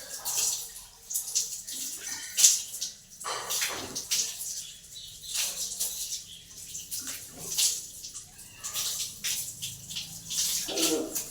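Tap water runs and splashes in uneven bursts while someone washes their face, fairly quiet and close, with soft handling noises between the gushes.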